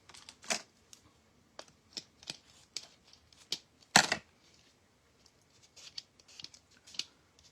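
Scissors snip through paper being trimmed for a Dollar Tree decoupage Christmas ornament, a series of short, crisp cuts at an uneven pace with one louder snap midway, close and alone.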